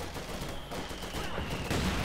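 Mortar rounds firing and exploding across a Company of Heroes 2 battlefield, a dense rumbling barrage with a thin whistling tone, then a heavier crash near the end, with no talking.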